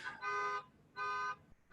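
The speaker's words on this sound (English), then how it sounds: "my neighbor's car alarm's going" Car alarm sounding nearby in two even electronic tone bursts separated by a short gap, fairly faint and with no talk over it.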